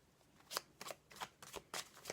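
Oracle cards are shuffled by hand in a series of crisp riffling bursts, about six quick papery flutters close to the listener, separated by short pauses.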